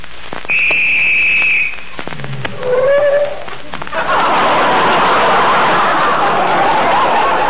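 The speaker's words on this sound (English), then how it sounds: "Somebody blew the whistle by mistake." A loud, sustained police whistle blast, followed by a short rising whistle and then a roaring, hissing burst of noise.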